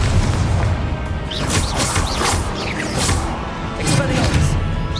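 The Confringo blasting spell in the video game Hogwarts Legacy sets off a heavy booming explosion with crackling, rumbling debris, loud and close, with a brief voice in the mix.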